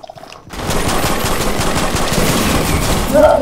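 Rapid automatic gunfire in the video game Goro's Primal Parade erupts after a brief quiet moment and rattles on loudly and continuously, close and dense, with a faint tonal game effect near the end.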